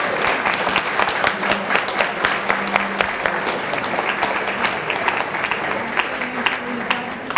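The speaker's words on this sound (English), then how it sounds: "give them a nice big round of applause" Steady applause from an audience at a charity fashion show, honouring the escorts of young hockey players serving as models; a dense, even patter of clapping with some sharper individual claps, carrying on throughout.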